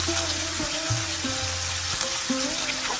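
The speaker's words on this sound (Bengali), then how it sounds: "বেগুন আলুটা আমি লাল লাল করে ভেজে দিব" Eggplant and potato pieces frying in hot oil for a fish and eggplant dish, a steady close broadband sizzle with a few low clunks and tonal hums underneath, no voices.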